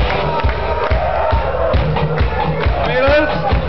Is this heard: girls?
yes